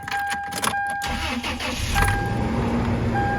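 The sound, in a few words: Toyota Tacoma 2RZ engine starting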